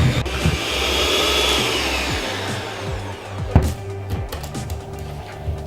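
A mixer whirs steadily while beating buttercream with icing sugar, a close continuous drone with scraping and knocking toward the end.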